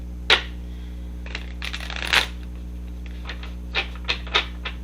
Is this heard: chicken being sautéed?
no